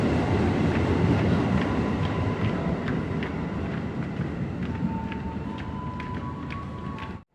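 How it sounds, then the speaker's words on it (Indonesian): An electric KRL Commuter Line train departs Bekasi station, rumbling steadily with rail clatter and a rising electric whine, loud and close, cutting off abruptly at the end. "KRL dengan nomor KA 5568B ini diberangkatkan dari jalur 7 stasiun Bekasi."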